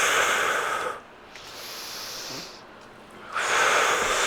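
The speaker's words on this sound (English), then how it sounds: "Nice long inhale." A long, close breath is drawn in through the nose during a Pilates mat class, a soft airy hiss that rises and falls in a quiet gap between louder rushes of noise.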